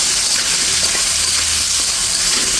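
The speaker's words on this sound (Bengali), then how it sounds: "আলুটা দিয়ে একটু লবণ দিয়ে দিয়েছি আর একটু হলুদ দিয়ে দিলাম। এটা দিয়ে একটু ভেজে নেব।" Potatoes with salt and turmeric frying in oil, an even, dense hiss of sizzling that holds steady and loud throughout, with no voices.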